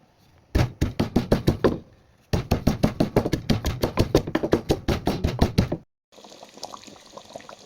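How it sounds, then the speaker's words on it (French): Dried fish, dried shrimp, red onion and salt are pounded in a mortar, heard as two close, loud runs of rapid rhythmic thuds separated by a brief pause, followed by a softer rustling noise after the pounding stops. "ce sont ces 4 éléments-là que je pile et je rajoute à la sauce"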